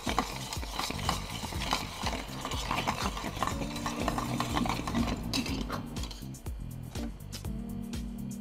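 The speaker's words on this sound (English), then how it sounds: "And then we're gonna give that a stir" A Sazerac cocktail with Peychaud's bitters is stirred with ice, giving a run of quick, close clinks and rattles in a steady rhythm that thins out toward the end. There is no talking.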